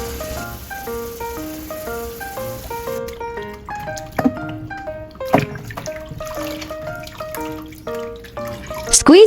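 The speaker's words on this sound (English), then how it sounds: "Rinsing several times until the water runs clear ensures the maikai is clean" Preserved mustard greens are rinsed under running water in a kitchen sink, with close splashing, dripping and trickling plus light clinks of a bowl, uneven and busy, and no talking.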